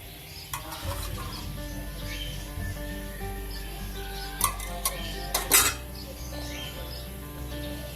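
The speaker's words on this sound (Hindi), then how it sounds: "अब हमने सारी चीज़ें डाली, अब इसको अच्छी तरीके से फेंटेंगे" Egg mixture for an omelette is beaten in a bowl, with a steady close whisking and clinking of metal against the bowl and a few louder knocks near the end, no talking.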